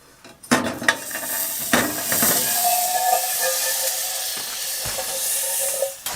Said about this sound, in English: I gotta learn to control this stove.